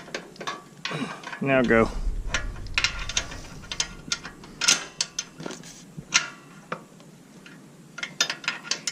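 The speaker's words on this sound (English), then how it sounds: "Here, take this ratchet." A ratchet wrench clicks in short, irregular bursts while fitting a 212 engine onto a Yerf-Dog go-kart, near and fairly loud, with metallic clatter between strokes and a brief spoken word early on.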